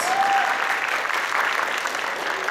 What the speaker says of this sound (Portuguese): É isso aí, palmas.